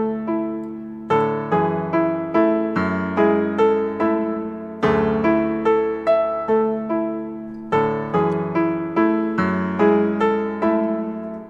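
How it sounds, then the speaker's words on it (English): A clean classic piano VST from Synology plays a simple melody of repeated chords, each struck note decaying evenly in a steady rhythm, with a little reverb and no voices. "I use this classic piano from Synology,"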